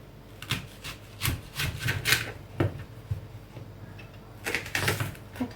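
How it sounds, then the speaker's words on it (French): Knife chopping onion on a board for hot dogs, a series of close, sharp irregular taps in short bursts with pauses between. "Là je vais découper de l'oignon."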